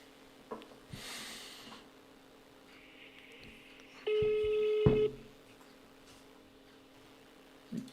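A telephone number is dialed for a call: a steady run of touch-tone beeps lasting about a second, followed by a sharp click, set amid quiet room noise with a brief breathy rustle before it.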